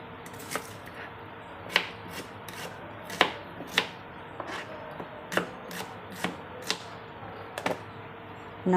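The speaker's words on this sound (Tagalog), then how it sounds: "Unahin muna natin hiwain yung mga ingredients" A knife chops ingredients on a cutting board for a fish dish with mustard greens, sharp distinct knocks landing in an uneven rhythm, about a dozen strikes, close and clear with no voices.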